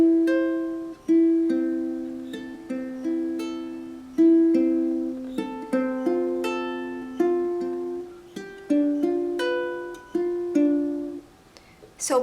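Ukulele fingerpicking pattern of single plucked notes ringing and overlapping in an even, repeating rhythm, with a brief rest and a longer held final note, close and clear with no voice.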